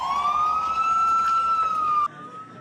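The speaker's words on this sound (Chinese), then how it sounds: "消防车一台一台出动" A fire engine siren blares loud and close as engines are dispatched to a building fire in Kaohsiung, a sustained rising wail that cuts off abruptly near the end.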